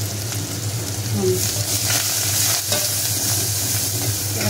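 Hot oil sizzles and crackles loudly and continuously close by, with occasional stirring scrapes and a voice faintly in the background.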